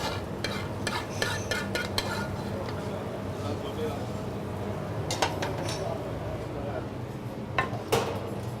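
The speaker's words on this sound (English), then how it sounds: "We've got a nice hot bowl here, and we'll dish up your curry, Neil." Curry being dished up into a hot bowl in a restaurant kitchen, a steady soft background with scattered clinks and scrapes of utensil against bowl, several sharper taps near the end.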